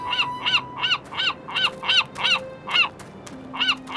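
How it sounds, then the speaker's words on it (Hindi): A wounded seabird gives a rapid series of about a dozen harsh, evenly spaced calls, loud and close, with a brief pause before the last few. "ये तो एक समुद्री पक्षी है।"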